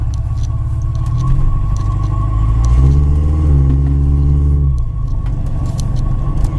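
A 2001 Subaru Outback fitted with a vacuum-cleaner-hose snorkel intake drives on the road, its engine droning steadily from inside the car and rising briefly in a louder rev before settling back into a constant hum.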